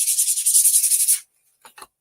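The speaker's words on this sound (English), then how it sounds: "So let me sand this down really quick and just show you just a light brushing." Quick, rhythmic strokes of sandpaper rub back and forth across wooden Christmas cutouts by hand for about a second, then stop. A couple of brief light scrapes follow.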